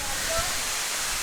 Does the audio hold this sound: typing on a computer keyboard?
no